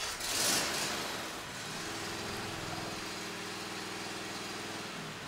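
A Cub Cadet XT1 LT46 lawn tractor engine starts and settles into a smooth, quiet idle below half throttle, a low steady hum with a brief louder burst at the start.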